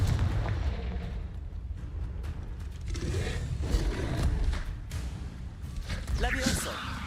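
Confringo, an explosive fire spell cast in Hogwarts Legacy, lands as a thick, rumbling blast with a heavier burst near the middle, set among continuous dense game noise and a brighter crackling flare near the end.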